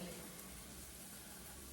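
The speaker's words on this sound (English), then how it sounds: "So now that our onion is frying, we're gonna go in first with our carrots together with our turmeric." Onion frying in a pan with carrots and turmeric going in, a steady close sizzle and crackle filling the whole moment without break.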